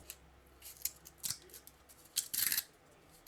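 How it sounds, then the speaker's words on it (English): The top paper layer is peeled off corrugated cardboard after cuts through the fluting, making a few short, crisp tearing and rasping bursts that are close and fairly quiet, with no talking. "And once we've cut through both of those, we can actually just peel this off."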